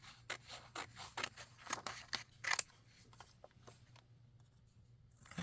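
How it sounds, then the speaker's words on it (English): Scissors snip repeatedly through glossy magazine paper for a junk journal, a close, steady run of crisp cutting strokes with a faint low hum beneath, thinning out toward the end. "So I'm going to just take my scissors now and just cut along the top here."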